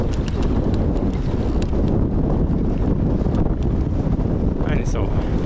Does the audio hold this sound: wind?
yes